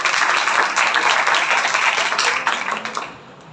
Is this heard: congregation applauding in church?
yes